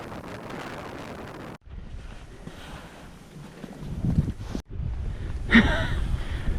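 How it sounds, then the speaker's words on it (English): Gusty wind on a mountain pass buffets the microphone in loud, rumbling bursts, briefly cutting out twice before roaring back stronger. "it's pretty windy up here"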